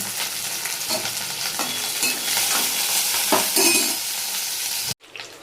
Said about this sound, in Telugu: ఇవి ఫ్రై అవుతుంది